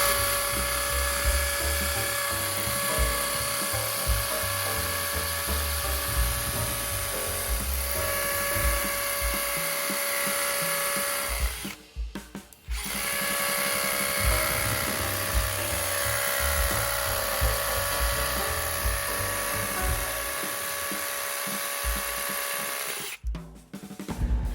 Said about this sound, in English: we're drilling holes so we can mount this conduit to the wall here